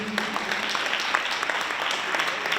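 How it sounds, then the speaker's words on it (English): Applause from an awards-luncheon audience for a catering team, a dense steady patter of clapping at moderate loudness with no voices over it. "can we have a round of applause for Dukes?"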